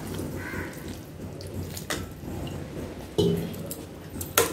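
A little water is poured into a pan of home-cooked curry, making soft trickling and a few small splashes and drips over low background noise.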